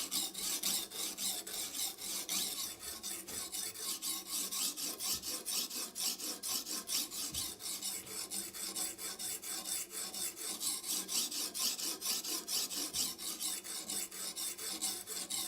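A knife blade is stroked across a wet coarse grit sharpening stone in a steady, rapid rhythm of close, gritty rasps that continue evenly throughout at a fairly soft level.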